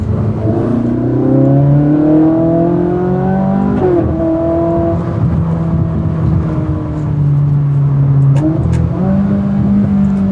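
A Ferrari 458 Italia's engine revs up and settles in repeated surges, its rising and falling tone strong and close, with no voices heard.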